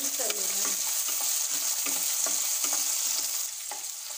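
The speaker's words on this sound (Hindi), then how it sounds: "मटर को हम इसमें डाल देंगे। सभी चीज़ों को हमें आपस में मिक्स कर लेना है।" A spoon scrapes and stirs in a hot pan as boiled peas are mixed into a vegetable pulao, with soft rhythmic strokes over a steady sizzle and no talking.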